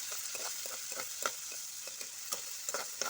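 Spices fry on a low flame in a pan, a quiet steady hiss broken by regular light scraping strokes of a stirring spoon, close up with no voices.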